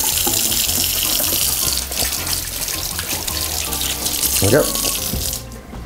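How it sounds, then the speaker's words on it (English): A kitchen tap runs in a steady loud stream as hands are washed, with faint clatter and a brief spoken word, before the water cuts off near the end. "And now I'm gonna wash my hands really quick."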